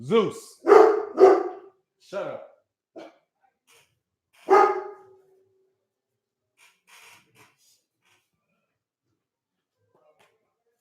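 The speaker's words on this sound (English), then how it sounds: "That's my dog wanting to bite somebody." A dog gives several loud, close barks at the start, then one more bark a few seconds later, followed by quiet; a person speaks briefly over the barking.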